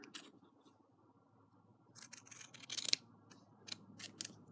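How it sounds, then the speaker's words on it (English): Scissors trim quilt wadding back to the card on a fabric sliding needle book, heard as a few quiet, close snips in the second half after a near-silent start. "And then we're going to trim the wadding back"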